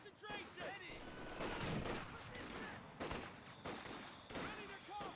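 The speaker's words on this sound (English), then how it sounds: "Mortar is opening up fire as well." Rapid machine gun bursts and heavy mortar impacts from Company of Heroes 2, a World War II strategy game battle in open fields, crackle densely across the clip with a commentator's voice layered over the gunfire.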